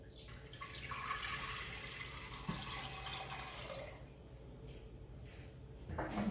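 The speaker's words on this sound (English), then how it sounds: "First, we add 5 cups of water into the pot." Water runs and splashes steadily into a big cooking pot, a continuous close-range pour lasting several seconds at moderate level before trailing off.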